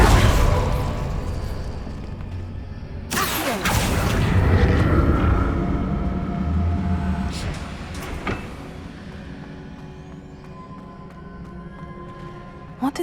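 Incendio fire spell from Hogwarts Legacy, a sudden loud whooshing burst that swells into a rumbling roar and slowly fades, followed by a smaller thump and a faint tail.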